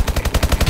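Rapid automatic gunfire in Call of Duty: Advanced Warfare, a tight burst of about nine evenly spaced shots fired close and loud.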